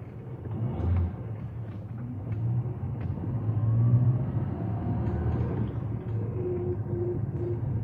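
A car drives along as a radio drama sound effect, a low, muffled engine rumble that swells and settles in a steady run, heard on its own without voices.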